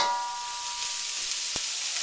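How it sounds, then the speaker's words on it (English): About a pound of shrimp hits a hot wok with garlic for shrimp in lobster sauce, giving a steady, bright sizzle throughout and one brief clink partway through. "Now's the time you're going to add your shrimp in."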